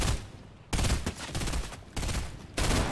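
Fortnite video game gunfire sounds in loud, dense, sustained bursts of rapid shots, with short breaks between volleys.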